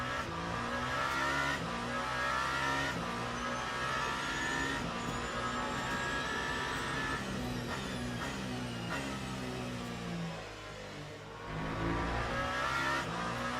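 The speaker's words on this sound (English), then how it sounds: "there is a bit of a turn left and the car pushes right on this outlap" A race car in a racing video game drives an outlap at Imola, its engine revving up and down through gear changes with a steady, loud in-car drone and brief dips between shifts.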